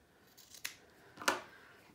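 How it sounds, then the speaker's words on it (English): Scissors snip twice through the corners of a sewn fabric glasses case, two short crisp cuts about half a second apart, close and fairly quiet with no talking. "I'm just going to cut those corners off"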